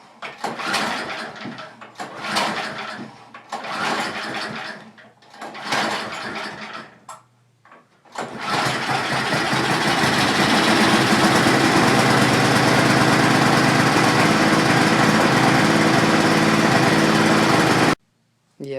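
A John Deere TRX 24 snowblower is started by hand in the cold with the choke on and the throttle at about half. Several rough pull-start attempts come first, then the engine catches and runs loud and steady close by before it cuts off abruptly.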